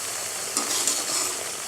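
Homemade ghee from buttermilk sizzles and crackles in a pan just after a few drops of water are added, a steady, faint hiss with brief louder spurts.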